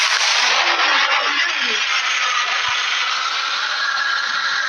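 A firecracker goes off in a Diwali fireworks simulator game: a loud, hissing burst at the start that thins into a fading crackling rush over a few seconds.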